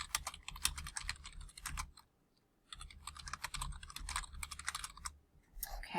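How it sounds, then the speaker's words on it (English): Someone types an answer on a computer keyboard, giving bursts of quick, close key clicks with a brief pause midway and no talking. "So I'll go ahead and type in an answer here."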